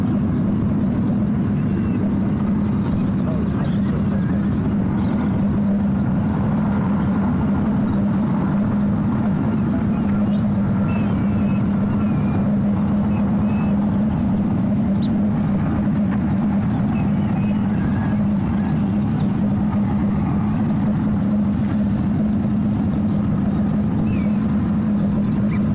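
An airliner lands on runway 28 Right at SFO, a loud, continuous low engine roar and rumble that holds steady throughout, with no clear voices.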